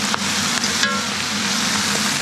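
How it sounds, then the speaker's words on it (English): Beef riblet and pig trotter stew for a Cantonese-style dish sizzles steadily in a pan as it is stirred, with a few faint clinks over a continuous close frying hiss. "now we can just stir it around, cook it a bit."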